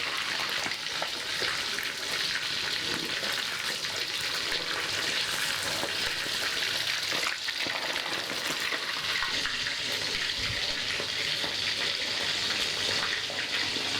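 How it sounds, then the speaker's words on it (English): Tilapia fries in hot oil with a steady, dense sizzle that holds for the whole stretch and shifts slightly as the fish is turned over, no voices. "We cook it until both sides of the fish are golden brown."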